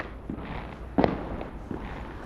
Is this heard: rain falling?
no